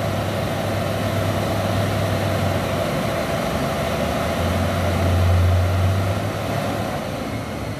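Trailer truck diesel engine running loud and steady at close range, rising in a brief rev near the end, with a low continuous drone throughout and no talk.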